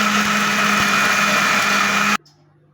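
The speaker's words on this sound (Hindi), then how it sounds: "अब हम इसको डालेंगे जग में, ब्लेंडर में डाल के इसको ब्लेंड करेंगे।" An electric blender whirs loudly and steadily, blending mango, sugar and water into juice, then stops abruptly near the end, leaving quiet.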